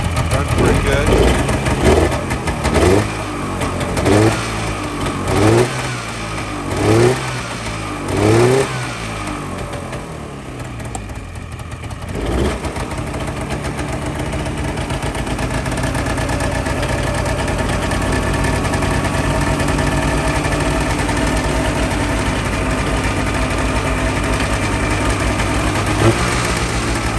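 An old snowmobile engine that had sat for about six years idles a little high. Several sharp revving bursts come first, then a steady, loud mid-pitched idle runs on alone for the rest of the clip.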